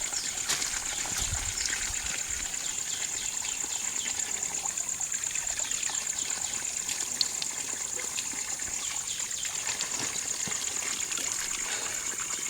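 Sacred spring water trickles and gushes from a rocky hillside at a temple, a steady continuous stream close by with no talk over it.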